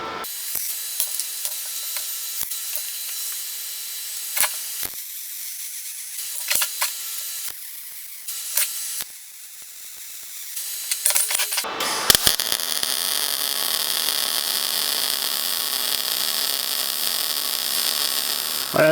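After several sparse clicks and taps, a steady crackling hiss starts partway through and continues to the end as a corner joint of square steel box-section tube is welded close by.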